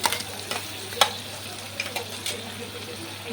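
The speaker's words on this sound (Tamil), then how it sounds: "இந்த டைமில் வந்து பிளெண்ட் பண்ணி வச்சுருந்து டொமேட்டோ ஜூஸை வந்து நான் ஆட் பண்ணிக்கிறேன்" Blended tomato juice poured into a pan of fried onions, hissing and sizzling steadily with faint stirring scrapes and a few sharp clicks, close and moderately quiet.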